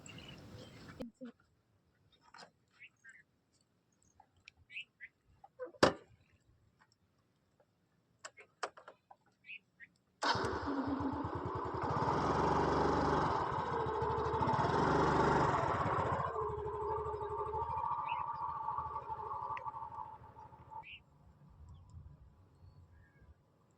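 A few scattered clicks, then a scooty scooter engine abruptly starts and runs with a steady, loud drone for about ten seconds before settling into a quieter idle.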